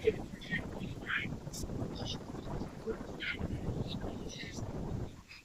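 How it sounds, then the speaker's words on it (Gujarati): Steady wind gusts rumble and buffet the microphone at a beach in Porbandar, a low continuous roar with faint scattered sounds on top. "મસ્ત મસ્ત ઠંડો પવન આવે હે"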